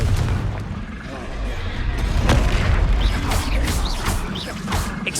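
Explosive Confringo spell blasts in the Hogwarts Legacy video game, with booming impacts and crackling bursts layered over dense battle noise and a voice talking throughout.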